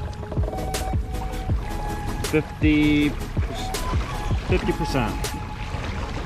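A Newport Vessels NK-300 electric motor drives a kayak-style boat on Lake St. Clair, its faint steady whine running under water sounds. Someone talks throughout, close by.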